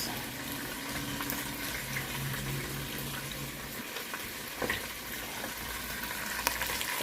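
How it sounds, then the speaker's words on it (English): Onions going into hot oil for egusi stew, a soft, steady frying hiss at modest level with a few faint clinks and stirring sounds, no talking. "The onions go in."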